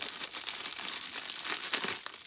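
Scissors snip and crinkle through the plastic packaging of a Funko Soda collectible can, a steady close crackling of plastic for about two seconds with a few sharper bursts, no speech.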